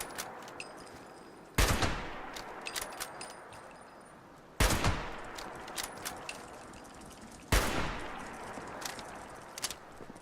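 Gunfire in the Fallout 76 video game, three sharp, loud shots spaced about three seconds apart, each followed by a decaying echo and scattered clicks over quiet game ambience.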